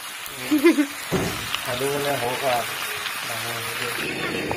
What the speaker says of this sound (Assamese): লোকেল চিকেন আৰু গ্ৰীণ মটৰ বনাইছে